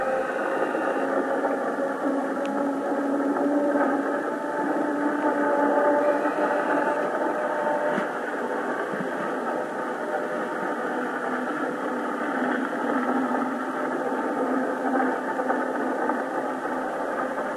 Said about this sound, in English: watch this northern pike have no reaction as a vehicle drives across the ice.